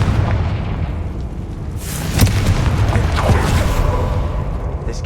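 A Confringo fire spell blasts in Hogwarts Legacy inside a decaying catacomb, a loud booming explosion with a rumbling burst that swells around the middle and keeps roaring to the end.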